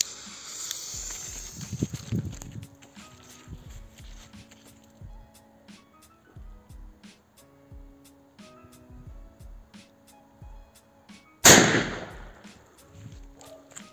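A large Croatian firecracker known as a veliki pirat, wedged against a hair dryer, detonates in one sharp loud bang near the end, after quiet shuffling and handling noises.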